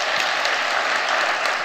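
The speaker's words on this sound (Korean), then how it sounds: "하나님께 그 영광 박수 한번 드리겠습니다." A church congregation at a revival prayer meeting breaks into loud, dense applause that holds steady and close throughout.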